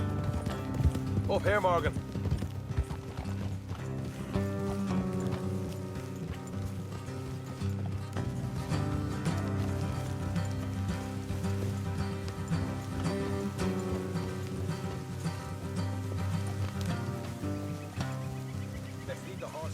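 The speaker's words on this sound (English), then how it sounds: "Let's leave the horses here and go the rest on foot." Horses gallop in Red Dead Redemption 2 with a steady, continuous clip-clop of hooves under music, while voices talk over them throughout.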